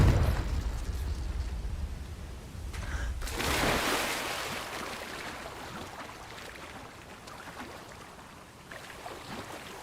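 A Confringo explosion spell goes off in a video game, a loud fiery burst with rushing, crackling roar that swells briefly then fades into a low, continuous rumble, with no talking.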